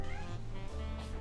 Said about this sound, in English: Yeah, you can hear them meowing.